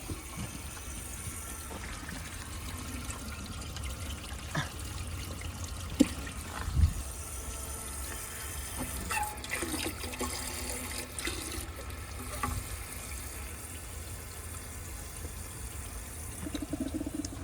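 Water runs and trickles steadily in a 1983 Gerber Mt Vernon toilet, a faint continuous hiss of flow with a few small clunks partway through.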